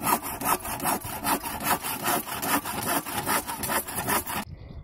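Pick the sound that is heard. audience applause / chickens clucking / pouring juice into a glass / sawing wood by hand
sawing wood by hand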